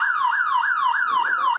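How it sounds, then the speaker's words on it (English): A house alarm siren, deliberately set off at a home in Van Nuys, wails loudly in rapid repeating rising-and-falling sweeps, about five cycles in quick succession, before cutting off abruptly. "And if it wasn't the horn, it was his house alarm, also intentionally set off."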